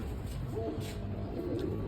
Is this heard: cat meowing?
no